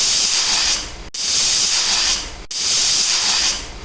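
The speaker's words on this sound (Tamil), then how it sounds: "3 விசில் விட்டு இதை நம்ம நல்லா இப்போ வேக வச்சு எடுத்து வச்சுக்க போகிறோம்." Pressure cooker cooking rice and lentils for ven pongal lets out three loud, steady bursts of hissing steam whistle, each cut off abruptly, with no talking.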